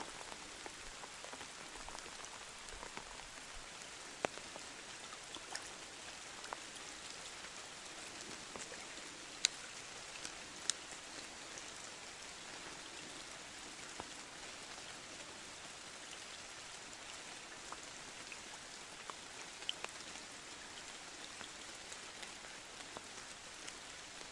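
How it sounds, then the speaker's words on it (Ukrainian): Heavy rain pouring on a riverbank along the Dniester, a dense steady hiss of drops with occasional sharper patters, alone without voices. "дощ припускає конкретно"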